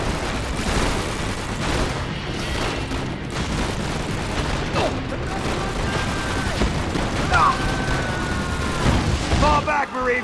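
A naval artillery barrage in Call of Duty: World at War, set on a Pacific battlefield, rumbles with heavy booms and scattered gunfire layered under shouting voices and radio chatter, loud and chaotic throughout.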